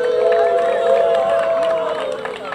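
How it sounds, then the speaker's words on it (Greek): Audience applause and cheering for Manos, a steady wash of crowd noise and clapping with a sustained tone running through it. "Ο Μάνος για ένα χειροκρότημα."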